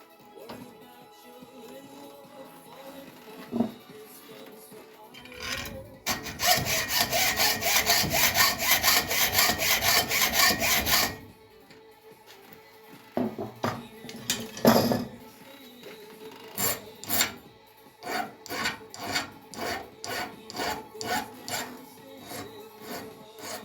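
Handsaw cuts through wood while a lever tool is being made, a few seconds of loud steady back-and-forth strokes, then quieter scraping and a rhythmic series of trimming strokes close by.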